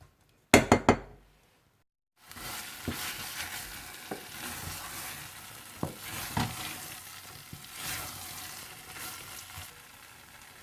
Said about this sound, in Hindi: और इसे आप हल्की आंच पर इतना पकाइए कि ये बिल्कुल घुट सी जाए और पानी खत्म हो जाए